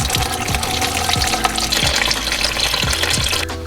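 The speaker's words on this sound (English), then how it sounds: "for now I'm gonna completely drain this" Coolant draining from a BMW cooling system during a drain and flush, a steady loud gush of liquid pouring continuously with splashing, close up, with no talking.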